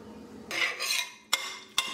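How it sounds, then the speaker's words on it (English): Dishes being washed in a home kitchen, with a wet scrubbing swish followed by two sharp clinks of utensils or crockery knocking together, close by and without any talking. "there's always dishes to wash."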